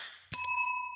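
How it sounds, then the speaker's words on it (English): A single sharp strike of a small bell, a bright metallic ding that rings on and slowly fades, with a faint voice just before it. "I'm going to ring the bell before we stop"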